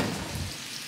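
Slavink, minced meat wrapped in bacon, fries gently in a pan, giving a soft, steady hiss of sizzling fat that stays close and even for a brief moment.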